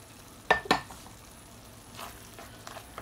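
Masala bhaji mixture being stirred in a pan, two sharp scraping clinks near the start followed by softer scrapes and a light sizzle, close and alone without talk.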